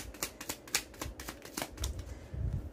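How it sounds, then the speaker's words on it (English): Tarot cards being shuffled by hand in a rapid series of soft riffling flutters, close up and alone, no talking. "I'm gonna shuffle some more."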